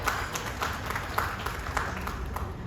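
Audience at a bridal event venue clapping for the title sponsor, a steady patter of many hands at moderate distance, fairly quiet and continuous through the moment with no one speaking.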